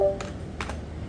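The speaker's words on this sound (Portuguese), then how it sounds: "Pior que eu tô digitando e não tá indo." Keystrokes on a computer keyboard with a poor connection, heard as two short clusters of taps in close succession over a low background hum, with no speech.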